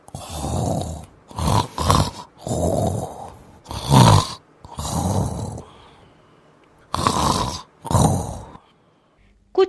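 A man snores deeply while asleep on a cot out in the fields, with long rasping breaths coming in slow, regular bursts separated by quiet pauses, loud and close.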